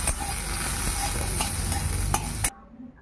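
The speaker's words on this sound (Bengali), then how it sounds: "আর বাদাম ভাজা বসিয়ে দিয়েছি।" Peanuts fry in a pan while being stirred, a loud, close, continuous sizzle with scraping stirs, cutting off abruptly near the end to near quiet.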